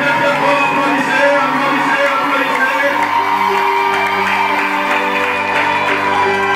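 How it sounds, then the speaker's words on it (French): Wedding guests at a nuptial blessing clap and cheer loudly and steadily, a dense wash of applause with whoops and shouts and a continuous sustained tone running underneath. "Encore très fort, applaudissez,"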